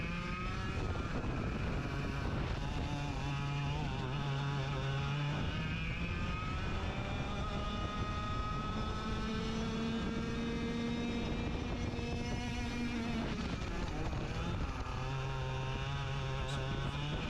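A race car engine heard from the cockpit, revving and dropping as the throttle is applied and lifted for braking, rising pitch sweeps between steadier held tones, loud and continuous.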